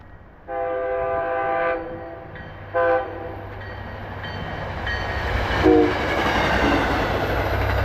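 A train horn blasts in repeated long tones, loud and close, over the steady rumble of a passing train, with the rolling noise swelling toward the end; heard near trucks.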